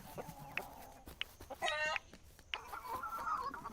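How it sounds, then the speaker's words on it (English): A rooster in the farming video game Dinkum, giving a series of short clucks and one longer rattling call, fairly quiet against a soft game background with no talking. "And our rooster has been active."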